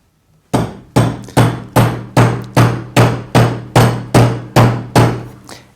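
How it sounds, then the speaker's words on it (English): Heavy, regular blows from a Delrin mallet strike metal into a bangle forming die about twice a second, each a loud thud with a short ringing tail, a dozen hits in a row. "So we can hammer"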